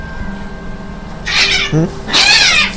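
Cats fighting in a game, with two loud yowling, snarling bursts over low background sound, close and harsh.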